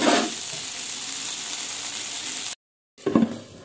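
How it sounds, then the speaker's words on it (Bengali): Potatoes and green peas frying in a pan for a Bengali drumstick-flower chochchori make a close, steady sizzle that cuts out briefly, then returns with louder stirring and scraping. "এভাবে একটু মটরশুঁটি আর আলু ভেজে নিলাম"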